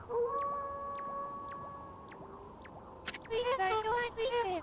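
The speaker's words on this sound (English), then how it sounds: "That was Kimu's howl." Kimu, a wolf-like character in the video game Okami HD, lets out a long, tonal, wavering howl over soft game music, followed by a few clicks and a gliding, chattering vocal burst near the end.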